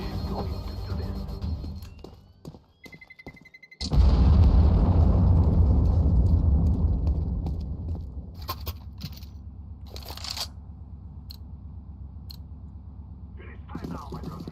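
A planted bomb detonating in a tactical shooter match: a rising electronic beeping, then a sudden heavy roaring blast that rumbles for several seconds before fading, with voices talking over it.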